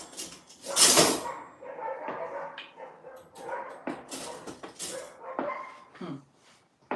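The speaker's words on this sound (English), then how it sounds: "I don't know what that dog is barking so much like that." A dog barks repeatedly at night in a garden, with loud close yaps and some whimpering yips in an uneven rhythm, fading out near the end.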